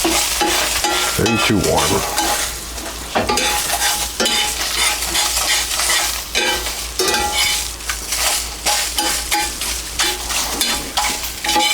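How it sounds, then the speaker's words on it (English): Eggs being stirred in a very hot pan for a light breakfast-sandwich scramble: steady close sizzling with repeated spatula scrapes and stirs. A brief spoken remark comes early. "Now I'm going for a light scrambled here"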